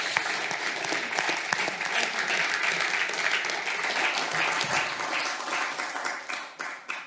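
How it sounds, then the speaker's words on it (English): A conference audience gives a long, even round of applause that holds steady and thins out near the end. "Give them a round of applause, please."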